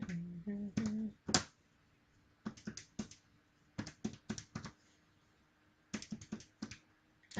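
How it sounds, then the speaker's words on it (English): Quiet, irregular clusters of small plastic calculator key taps, pressed in short bursts with pauses, close by; a brief voice-like murmur near the start. "I'm just typing on the calculator for anyone interested in wondering what I'm doing."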